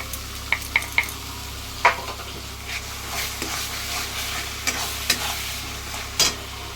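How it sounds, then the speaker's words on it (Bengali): Ground tomato paste hits hot spices frying for a mutton and potato curry, giving a steady close sizzle broken by several sharp scraping stirs. "আমি এর মধ্যে 2খানা টমেটো বাটা দিয়ে দিচ্ছি।"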